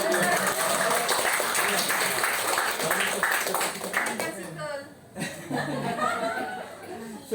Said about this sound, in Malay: Boleh lah beli tepuk tangan